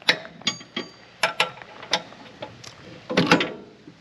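Bolts being tightened with a wrench on a Woodland Mills TFG55 PTO 5-inch wood chipper, a series of close metallic clicks and ratcheting taps at uneven intervals, with a louder clustered rattle near the end.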